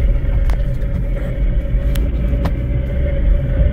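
Inside a Nissan Rogue with a worn wheel bearing, a steady low rumble and road drone continue without a break, with a few faint clicks scattered through it.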